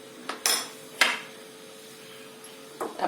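Utensil clinking against a bowl while mixing ingredients for green pea paratha, a few sharp metallic taps spaced irregularly over a quiet background.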